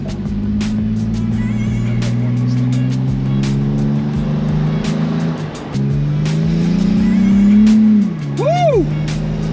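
A Toyota TRD truck fitted with an MBRP exhaust, AIRAID intake and Pedal Commander accelerates close by, its engine drone rising steadily in pitch, while people talk and call out over it.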